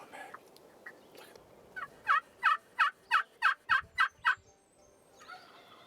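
A wild Merriam's turkey gobbles in a rapid run of about eight loud, evenly spaced pulses on a Black Hills morning in South Dakota, clear and fairly near against quiet outdoor background.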